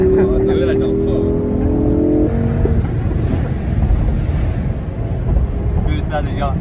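Lamborghini on new tyres skidding: a loud, close, continuous roar of engine and tyres with a brief tonal drone early on, while people talk over it.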